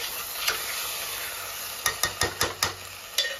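Chicken pulao rice is stirred in a pot, with a series of sharp spoon scrapes and knocks against the metal, mostly bunched near the end, over a low background hiss and no speech.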